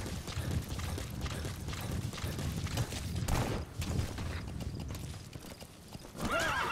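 Horse hooves clip-clopping and a neigh in Metal Gear Solid V: The Phantom Pain, a steady rhythmic trot close by with a shrill whinny rising near the end.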